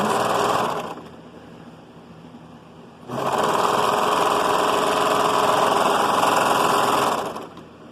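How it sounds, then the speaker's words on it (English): A sewing machine runs in two bursts of rapid, steady stitching while joining pieces of a children's dress, a close mechanical whir with a short pause between runs. "then I can connect the bottom two pieces that aren't connected to the zipper with ease with the sewing machine"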